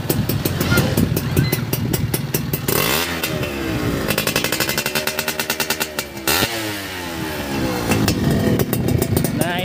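A restored Honda C70 motorcycle with a custom aftermarket exhaust, running close by with a loud idle that rises into sharp revs, drops back to a throbbing putter and revs again, with wind noise outdoors in rice fields.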